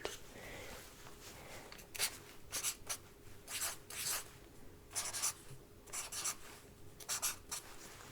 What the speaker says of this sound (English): so let me go ahead and write out